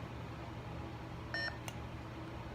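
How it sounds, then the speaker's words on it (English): Two short electronic beeps from a Korbanth K4 Nano lightsaber in quick succession over a low steady hum, faint and close. "2 beeps."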